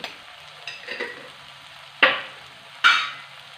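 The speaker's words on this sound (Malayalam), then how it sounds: "എല്ലാം കൂടെ ഒന്ന് ഇളക്കാം" Spices and vegetables frying for homemade noodles are stirred in a pan: a soft, steady sizzle broken by a few scraping strokes and two sharp, close stirring sweeps near the end, with no talk.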